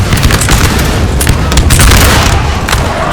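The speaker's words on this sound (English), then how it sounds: "Such brutal volley." Massed musket volley in the Napoleonic battle game Napoleon Total War, a dense, loud roar of overlapping gunfire and booming reports sustained throughout with no voices.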